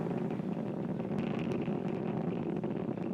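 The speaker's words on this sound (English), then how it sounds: "1D engines on the first stage are beginning to throttle down" Falcon 9 first-stage Merlin 1D engines during the Crew 4 launch to the ISS, heard as a steady, dense broadband roar that holds unbroken throughout, like a powerful distant engine rumble.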